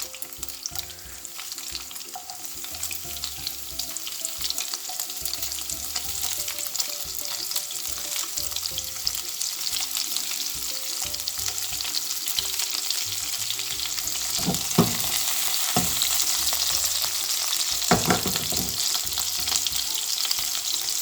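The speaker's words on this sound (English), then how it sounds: "I'm going to add the leeks." Leeks sizzle steadily in a pan for an Italian one-pan pasta with pancetta and peas, a continuous close frying hiss with occasional stirring scrapes and no talking.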